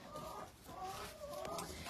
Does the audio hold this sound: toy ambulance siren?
no